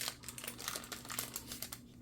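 Paper packets for a handmade paper bag book cover are torn and opened, giving a quiet, continuous crinkling and rustling close by.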